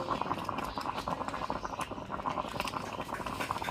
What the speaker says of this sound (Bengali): এই যে আমাদের ডিজিটাল আলু সেদ্ধ